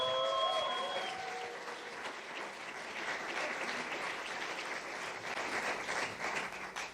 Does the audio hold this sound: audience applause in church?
yes